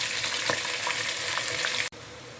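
Onions frying in a pot for plov, with a steady, close sizzle and faint stirring crackles that cut off briefly near the end.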